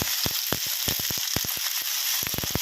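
Cabbage stir-fried over high heat in hot oil in a wok, a close hissing sizzle broken by rapid, irregular scrapes and tosses of the spatula against the pan.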